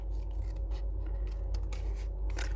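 Scissors snipping along a score line while crafting a stocking filler, a steady close run of quick rasping cuts with no talk.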